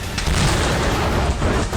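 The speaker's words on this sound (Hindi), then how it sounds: "रिपोर्ट के मुताबिक क्रीमिया के सिम्फेरोपोल में धमाका हुआ।" An explosion at a military site in Simferopol, Crimea, comes as a loud sustained rumbling boom that fills the whole short stretch without letting up.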